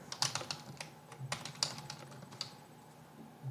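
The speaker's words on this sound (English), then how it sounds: "we're typing" Fingers tap quickly on a computer keyboard in close, irregular bursts of crisp clicks, with short pauses and no voices.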